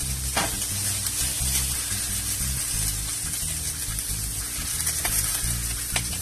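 Corn sizzles steadily in a hot pan while being stir-fried, with occasional scraping knocks from the stirring utensil over a constant frying hiss, close and moderately loud.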